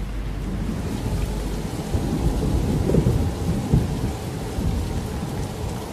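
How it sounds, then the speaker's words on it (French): Rain pours steadily over the desert near El Oued, a dense hiss of falling drops with deep thunder rumbling through it, continuous and close with no voices. "J'ai vu la pluie tomber dans le désert."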